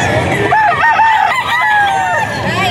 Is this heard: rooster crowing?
yes